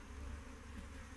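Honey bees buzzing during a beehive inspection, a faint, steady, low droning hum throughout with no talk over it.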